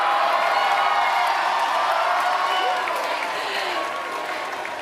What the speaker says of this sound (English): I think I'm ready for this cheer